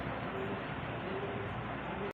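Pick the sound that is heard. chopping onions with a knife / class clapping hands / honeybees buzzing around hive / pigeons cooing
pigeons cooing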